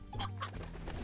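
A chicken in the Slime Rancher video game gives a short burst of clucks, close and clear, with no talking over it.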